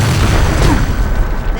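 Explosion in the game Jak II, a dense, loud blast of broadband noise with heavy low rumble that fills the whole moment without a clear decay.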